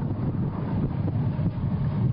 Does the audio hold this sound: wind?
yes